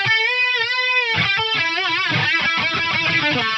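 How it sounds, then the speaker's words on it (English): High-gain electric guitar run through an Axe-Fx III with a symphonic chorus and Bricasti reverb blended in: sustained harmonically rich chords ring out for a second, then a busy run of distorted picked notes follows, loud and up close. "this is going to be some high gain from the XFX3 with the symphonic chorus"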